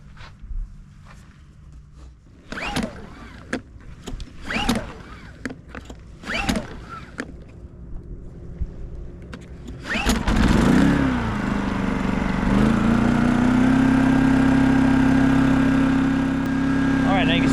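A Wen 3600 dual fuel generator is pulled and started: several sharp pull-cord rasps, then the engine catches and settles into a loud, steady running drone.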